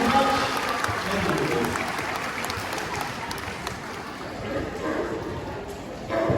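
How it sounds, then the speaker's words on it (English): An outdoor crowd at a sea lion show at Knowsley Safari gives a long round of applause, a dense, steady patter of clapping mixed with a general crowd murmur and some talk. "Big round of applause"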